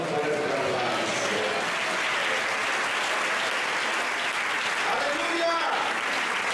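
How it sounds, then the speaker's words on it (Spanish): Congregation at a church sermon breaking into strong, continuous applause, a thick steady clapping texture with voices calling out over it. "adórelo con un fuerte aplauso"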